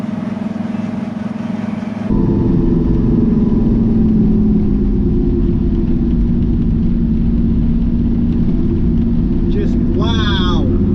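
A camper van engine drives along a Scottish mountain road in winter, a steady loud rumble that swells into a heavier drone after a couple of seconds and holds, with a brief higher whine near the end.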